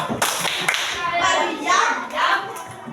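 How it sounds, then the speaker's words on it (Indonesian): A class of children clapping their hands together in a school classroom, a burst of scattered applause with overlapping claps rising and falling in waves, close and fairly loud with some young voices mixed in. "Oke, tepuk dia."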